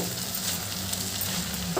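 Brinjal curry sizzling in a pan as it is stirred, a steady, close frying hiss with soft scraping of the spoon, no voices.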